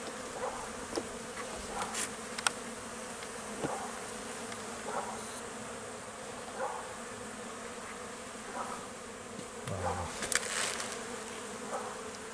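Calm Buckfast honeybees hum in a steady, moderate drone during a hive inspection, with occasional brief louder buzzes from bees flying close by and no talking.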